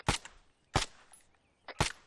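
Gunfire in a video game, three sharp, loud shots spaced apart with brief softer clicks and noises between them, no talking.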